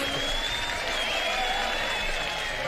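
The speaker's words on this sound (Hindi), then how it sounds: "इब्राहिम साहब के लिए तालियां तो बजाएं यार" Studio audience applauding for Ibrahim on the Pakistani game show Jeeto Pakistan, a steady dense wash of clapping with a faint tonal whine running through it, no voices over it.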